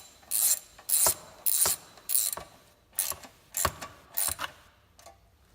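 Ratchet tightening a bolt on a pull start cover during a stage 2 performance kit install, seven quick bursts of clicking separated by short pauses, close and crisp with no talking.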